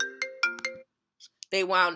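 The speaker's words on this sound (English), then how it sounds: "That was a phone call." An incoming-call phone ringtone plays a bright melodic tune nearby, pausing briefly before the chime repeats more loudly, with a voice overlapping the ringing.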